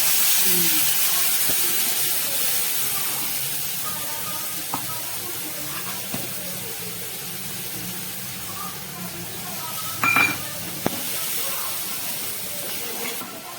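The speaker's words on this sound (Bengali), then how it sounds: "ফুলকপি রসা, এটা মশলা দিয়ে কষাচ্ছি" Cauliflower frying with spices in a pan for fulkopi rosa, a steady soft hiss and sizzle with occasional faint clicks of utensils, close and fairly quiet.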